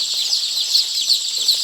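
Imported day-old chicks in a brooder on a poultry farm in Ghana chirp constantly, a dense, high, overlapping peeping that stays steady and loud with no voices.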